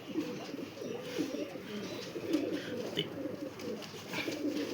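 Several pigeons coo continuously in soft, overlapping murmurs, close by and fairly quiet.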